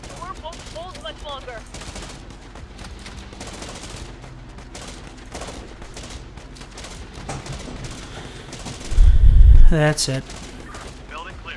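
Squads firing in Infection Free Zone, a steady rattle of small-arms gunfire that builds to a heavy booming burst near the end, with someone speaking briefly over it.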